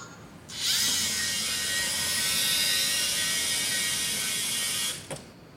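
A small robot's electric motors drive it along, a loud steady high-pitched whir and gear whine that starts abruptly, runs evenly for about four seconds up close, then cuts off with a short click.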